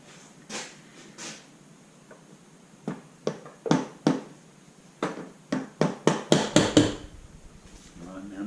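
A rubber hammer gives an engine part on a Honda Spada motorcycle a series of light, gentle taps during valve clearance work, sharp close knocks spaced irregularly at first, then coming quicker in a rapid run near the end.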